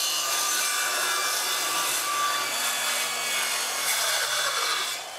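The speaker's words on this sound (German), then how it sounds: "Wir haben ja gerade hier das Sägeblatt für Laminat eingespannt und jetzt schauen wir mal," An 18V cordless circular saw fitted with a laminate blade cuts through laminate flooring, making a loud, steady, rasping whine that holds for the whole cut and eases slightly at the end.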